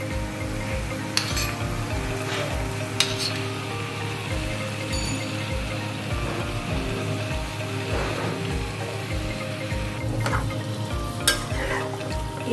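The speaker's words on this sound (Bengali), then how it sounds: "এরপর সুন্দর করে আমি টক দইটা মাখিয়ে নিলাম চিকেনটার সাথে।" Sour yogurt is mixed into raw chicken with a steady, rhythmic squelching and scraping, repeated stirring strokes at a close distance with occasional clinks against the bowl.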